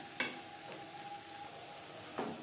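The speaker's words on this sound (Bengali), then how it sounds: "লো টু মিডিয়াম ফ্লেমে নাড়াচাড়া করে নেব।" Soaked sago pearls and vegetables are stirred in a pan over a low to medium flame for a fasting-day khichuri, giving a faint, steady sizzle with two soft scrapes of the spoon.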